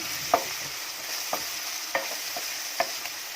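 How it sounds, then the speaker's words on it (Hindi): Onion with black cardamom, cloves and cinnamon frying over medium gas while a ladle stirs it for rajma chawal: about five sparse, sharp scrapes and taps of the ladle over a faint, steady sizzle. "इसको मिक्स करेंगे अच्छे से और इनको ब्राउन होने तक भूनते रहेंगे।"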